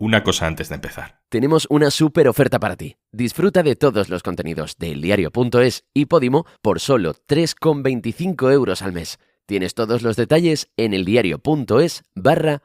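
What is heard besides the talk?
No everyday noise stands out behind the speech.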